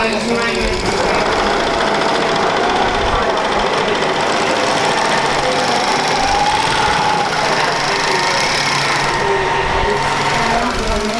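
At a sewing club, a sewing machine stitches fabric along the bottom of a handmade bag, its steady mechanical whirr running throughout beneath overlapping voices chatting in the room.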